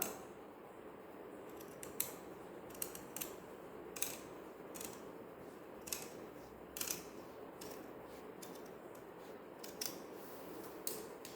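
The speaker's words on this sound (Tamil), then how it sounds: "இப்போ இந்த ரவுண்டை கட் பண்ணி எடுத்திங்கன்னா" Fabric being cut into a round shape for a child's umbrella gown with scissors, heard as close, quiet, repeated snips and blade clicks at an irregular rhythm, with no talking.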